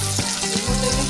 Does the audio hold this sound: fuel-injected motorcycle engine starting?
no